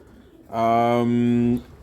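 A single pigeon gives one drawn-out coo lasting about a second, close and clear against a quiet background.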